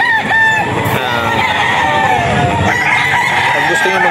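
Loud, close farmyard chorus of hens clucking and roosters crowing over one another continuously, a dense layered flock of farm-breed chickens with no pauses.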